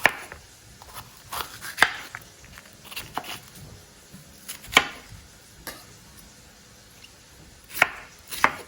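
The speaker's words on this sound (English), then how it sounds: "And also going to use one green pepper, and I'm just going to cut it into pieces." A knife chops a green pepper into pieces on a board while preparing a chilli mushroom stir fry, giving a string of close, crisp, irregularly spaced cuts with short pauses between them.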